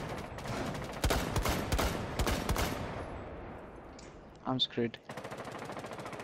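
Rapid automatic gunfire in a competitive ranked shooter match, dense bursts of shots up front that thin out, followed by a few isolated pops, with a player briefly speaking.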